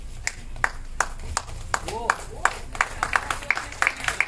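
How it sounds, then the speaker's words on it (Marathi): Scattered hands clap at a felicitation event for journalists, sparse distinct claps that grow denser toward the end, mixed with faint voices and a short squeak. "सरांसाठी एकदा जोरदार टाळ्या झाल्या पाहिजे"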